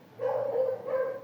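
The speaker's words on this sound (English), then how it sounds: "right now there's this fucking dog barking like crazy" A dog barks repeatedly and excitedly in two sustained, tonal bursts, moderately loud and fairly close, with no talking over it.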